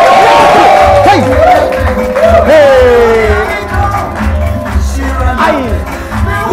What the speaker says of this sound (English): ladies and gentlemen, a round of applause for Patience